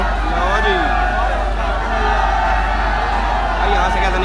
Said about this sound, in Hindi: भाई होटल के बाहर भी भीड़ है, वहाँ भी भीड़ है।